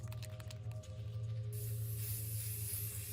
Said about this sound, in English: we use the anti-rust spray here